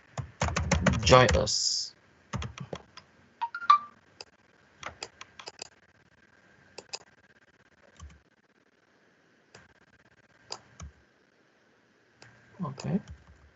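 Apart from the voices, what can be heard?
typing on a computer keyboard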